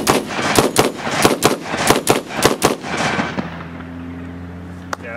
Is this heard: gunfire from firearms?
yes